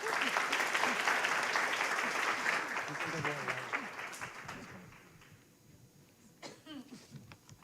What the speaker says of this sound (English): please give her a round of applause when she comes in